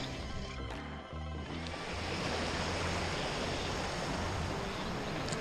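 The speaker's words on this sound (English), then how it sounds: "I think this is Santa Rosa Creek" Santa Rosa Creek rushes past in a continuous broadband wash of flowing water, close and fairly loud, with a few low tonal thumps and rattles early on before the steady flow takes over.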